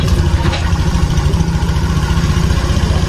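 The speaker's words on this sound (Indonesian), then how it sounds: "Sekarang kita nyalakan." A fuel-injected Honda motorcycle engine starts and settles into a steady idle, its low pulsing exhaust chug continuous and close throughout.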